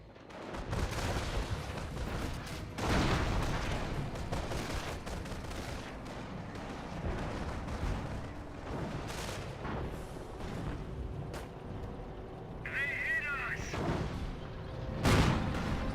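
Mortar and artillery fire rolls across a Company of Heroes battlefield, with dense repeated booms and crackling shots filling the mix at a steady moderate level, a sharp louder blast standing out near the end.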